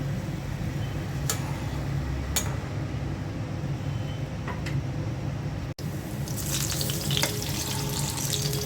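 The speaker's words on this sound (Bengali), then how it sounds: "তারও ভেজে নেব আলুর চপ বেগুনি ডালের বড়া" Potato chops, beguni and lentil fritters in besan batter deep-frying in oil, giving a steady dense bubbling sizzle with occasional clicks, which grows brighter and louder after a brief break.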